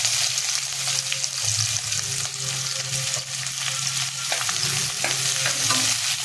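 Half a kilo of chopped, slightly dried onion frying in oil over a low flame, a steady, close, dense sizzle that holds without a break.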